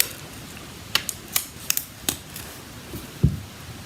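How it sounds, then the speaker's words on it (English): Scissors snip the frayed end of a ribbon in a quick run of five or six crisp, close clicks, followed after a pause by a soft low thump, with no talking. "And trim the frayed end."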